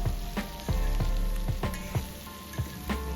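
Bitter gourd with turmeric frying and being tossed in a pan, a steady sizzle broken by a regular series of scrapes and thumps from the stirring, close up.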